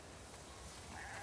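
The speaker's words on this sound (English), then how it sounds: "We definitely have way too many sheep." Sheep bleating in a video game, a steady, slightly noisy background, a short higher-pitched bleat rising near the end.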